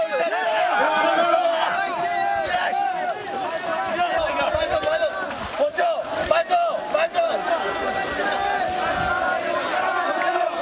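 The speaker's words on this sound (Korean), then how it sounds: "우렁찬 함성으로 기선 제압을 하고 본격적인 격투가 벌어졌습니다." Soldiers in a combat match roar a loud, sustained battle cry together, a dense crowd of shouting voices with cheering and scuffling mixed in throughout.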